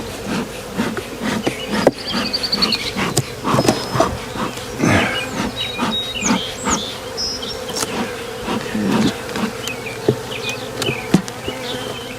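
Honey bees swarm around an opened hive, a dense, continuous buzz close by with individual bees droning past, over soft rubbing and handling noises.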